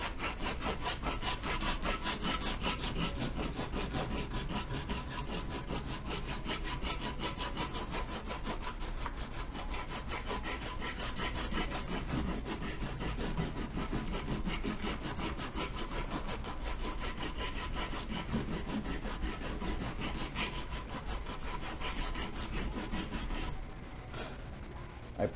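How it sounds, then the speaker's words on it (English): Wooden knife handle scales being sanded by hand, a steady rapid back-and-forth rasping scrub kept up close for the whole stretch, easing off briefly right at the end, with no talking. "So that's just the process of sanding"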